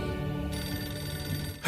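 A telephone in a video game trailer rings with a continuous electronic bell tone, fairly quiet and alone, cutting off near the end.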